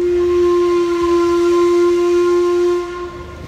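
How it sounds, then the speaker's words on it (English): Steam whistle on a paddle steamer blows one loud, steady, sustained tone for about three seconds, then cuts off, leaving a softer hiss and background rumble. "that was the funnel on the paddle steamer, or you could call it the whistle."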